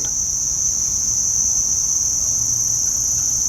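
Dense, continuous insect chorus of crickets and locusts by a river on a calm Ohio paddle, a steady high shrill drone with no talk and a low murmur underneath.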